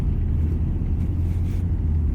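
A lorry drives past on the road, a heavy low rumble that stays loud and steady for the whole moment, close to the listener, with no speech.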